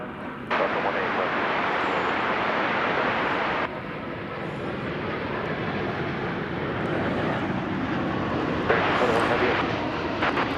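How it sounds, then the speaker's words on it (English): A Boeing Dreamliner airliner at DFW Airport gives off a steady, loud broadband jet roar that holds through the whole stretch, with some talk over the top. "It's another Dreamliner"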